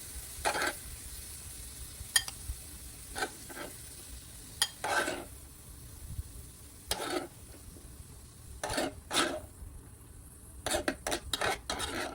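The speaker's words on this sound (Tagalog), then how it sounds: "Haluin ulit." A utensil stirs scrambled egg with spinach in a pan, giving intermittent scrapes and metallic clinks in short bursts over a faint sizzle.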